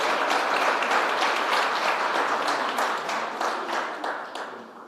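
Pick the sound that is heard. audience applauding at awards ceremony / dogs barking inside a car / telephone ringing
audience applauding at awards ceremony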